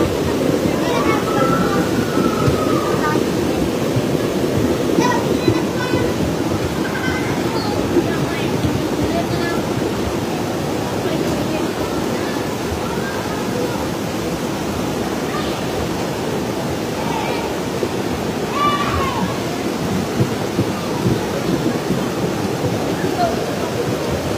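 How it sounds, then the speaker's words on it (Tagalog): A steady, dense roar of rushing flash-flood water fills the whole stretch, constant and loud, with faint chirps and distant sounds poking through, in Guinobatan, Albay, Philippines. "Wala nang ulan, pero malakas pa din ang baha."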